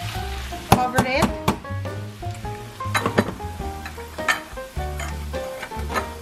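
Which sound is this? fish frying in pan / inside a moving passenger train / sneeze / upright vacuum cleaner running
fish frying in pan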